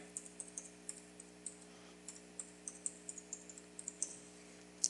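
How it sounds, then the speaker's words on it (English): Password typed on a computer keyboard: quiet, close key clicks in a quick, uneven run of a dozen or so presses over a low background hum, with no talk. "type a password."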